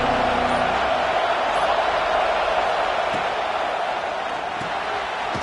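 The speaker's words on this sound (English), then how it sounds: "This crowd ready to make its presence known." Stadium crowd in the College Football 26 video game, a steady broad roar of fans that holds at a loud, even level throughout, with faint thumps beneath.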